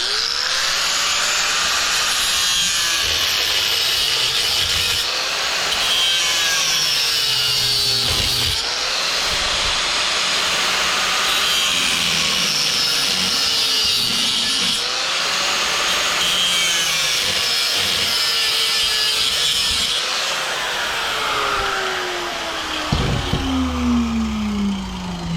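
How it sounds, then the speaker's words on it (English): A power saw cuts steadily through the parts of a commercial exhaust fan's copper motor clamped in a vise, a continuous loud grinding rasp with repeated strokes and shifting pitch that runs for the whole stretch. "We'll go back into the vise with it, and we'll just cut these here"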